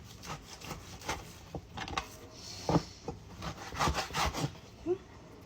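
Meat on the bone, likely beef, being cut before washing for a soup, heard as repeated rough sawing and scraping strokes with irregular thuds and rasps, close and moderately loud, with no talk.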